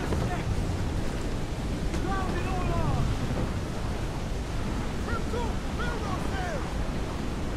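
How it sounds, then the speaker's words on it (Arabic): Stormy sea in Assassin's Creed Black Flag: a steady, loud roar of crashing waves and gusting wind fills the whole clip, with faint whistling, squeaky tones drifting above the surf. "متى تخلص العاصفة؟"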